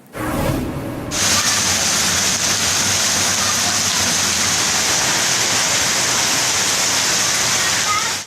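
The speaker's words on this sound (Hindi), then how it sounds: "हुजरा शाह मुकीम, मंडी अहमदाबाद, शेरगढ़, बसीरपुर में मौसलाधार बारिश हो गई।" Heavy monsoon rain pours down with floodwater flowing in a Punjab town, a dense steady hiss and rush that starts abruptly after a second and holds loud and unbroken.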